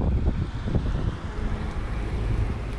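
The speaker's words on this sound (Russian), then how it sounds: "Ветер стал подниматься." Wind picking up outdoors on a city walk in Ulan-Ude, a steady broadband rush with gusty low rumble buffeting the microphone throughout, fairly loud and continuous with no talk.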